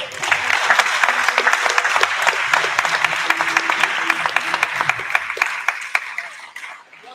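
Audience at a futsal club's team presentation applauds the team captain, a sustained crowd clapping with crisp individual claps standing out, gradually thinning and fading at the end.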